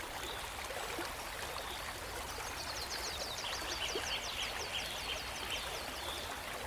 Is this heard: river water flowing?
yes